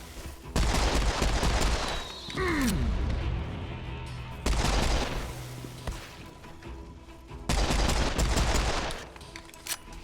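Bursts of rapid automatic gunfire from an unseen enemy in the shooter game Serious Sam 4, three loud volleys separated by quieter gaps with a whoosh between them.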